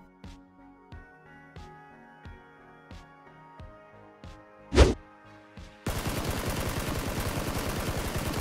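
A SCAR rifle fitted with a thumb grip fires in PUBG, first as evenly spaced single shots with ringing tails, then a loud sharp report, then a rapid sustained full-auto burst emptying the magazine.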